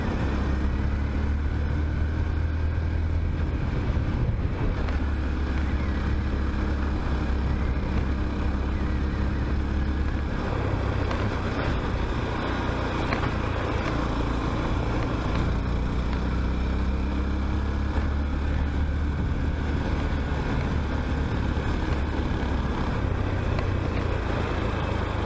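Steady engine drone and wind rush from a Honda Grom motorcycle cruising down a highway, continuous and close with no talk.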